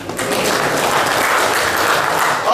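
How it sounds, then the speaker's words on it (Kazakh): Guests at an 85th birthday celebration clap together in a dense, steady burst of applause that stays loud and even from start to finish. "Шапалақ қайда"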